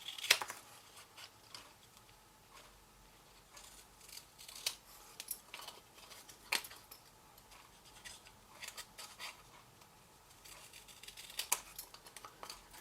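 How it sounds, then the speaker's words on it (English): Scissors snipping through grid paper in a quiet room, with irregular crisp cuts and soft rustling throughout. "I'm going to get a longer pair of scissors now"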